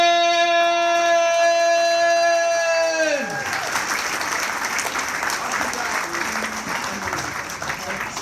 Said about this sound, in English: I need you to have a big round of applause